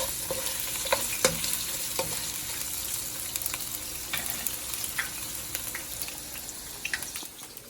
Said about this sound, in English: I'm gonna add in the franks, the sausage.